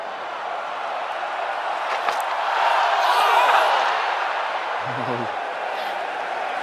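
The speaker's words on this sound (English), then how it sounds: "Not a full crowd by any means, but a lot of noise." A partly filled cricket stadium crowd at an England v India match in 2021, making a broad, sustained roar that swells in the middle, while a voice talks over it.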